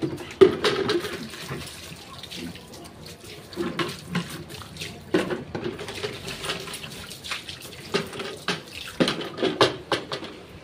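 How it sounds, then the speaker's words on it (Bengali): Tap water runs and splashes in a home kitchen in fitful bursts, quiet and close, with intermittent clatter and knocks against the basin. "কলের জলগুলো চলে এসেছে"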